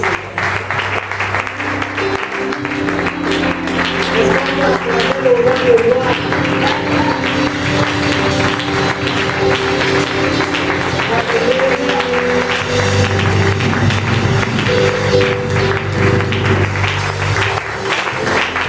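A church congregation applauding and cheering in praise, loud sustained clapping with crowd voices, music tones running beneath, continuous for the whole stretch.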